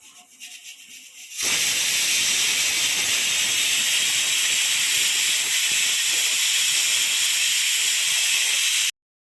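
Loud, steady hiss of steam jetting from a pressure cooker whistle while chickpeas cook, starting abruptly after a quiet moment and continuing for several seconds before cutting off.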